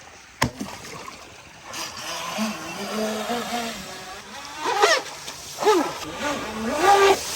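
A 3D printed RC basher boat's motor on a 6S battery at full throttle whines in rising and falling bursts, revving up repeatedly at close range while voices talk over it.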